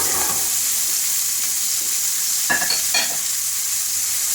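Diced onion and celery fry in oil in a pan, a steady close sizzle with a few brief clinks of utensil stirring partway through.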